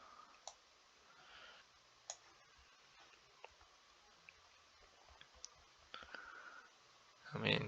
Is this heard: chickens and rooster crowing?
no